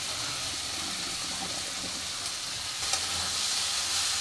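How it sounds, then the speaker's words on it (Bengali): Small chuno fish hit hot spiced oil in a pan and fry with a steady, close hiss that swells slightly toward the end. "এবার আমি দিয়ে দেবো চুনো মাছটা।"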